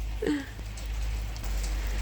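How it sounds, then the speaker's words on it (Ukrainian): Rain falling over a garden, a steady soft hiss of drops at moderate level with a low background rumble, continuing evenly throughout with no talking. "і дощ ще йде"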